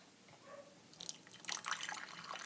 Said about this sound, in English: see if you can hear the sound of this lovely tea